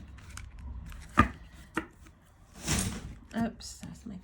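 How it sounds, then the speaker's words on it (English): A cat leaps out of a cardboard box indoors during a tarot deck unboxing, giving a sharp thump near the middle, then another soft bump and rustling, with quiet background sounds around it. "that's my cat jumping from the box"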